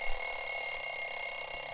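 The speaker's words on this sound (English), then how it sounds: "Fight the snooze, fight the alarm." A phone alarm rings loud and close as a steady electronic tone that holds unbroken through the whole short stretch.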